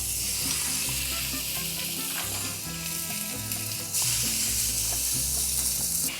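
Marinated taco meat sizzling loudly in a pan, a steady dense frying hiss with crackles and popping, close up, growing slightly louder partway through.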